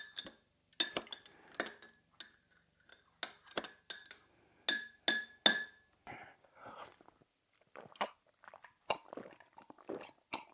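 A spoon stirs a drink in a glass, giving a series of close, quiet, irregular clinks and taps with short ringing tones and brief pauses between them.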